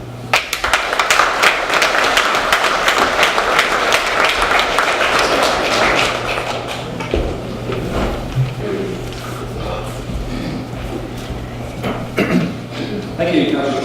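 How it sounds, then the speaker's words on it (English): An audience at a firemen's ball bursts into sustained applause, dense clapping filling a hall for several seconds before thinning into scattered claps and murmuring chatter. "let's put our hands together and give these gentlemen a nice round of applause"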